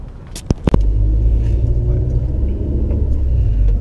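Honda Civic ESI pulling away from standstill: a couple of sharp clunks, then a steady, loud low engine rumble that holds for several seconds close by.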